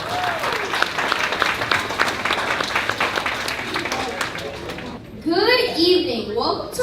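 An elementary school audience at a Black History program claps warmly for the mistress of ceremony in a dense, sustained burst of applause, which fades as a voice begins speaking at the microphone.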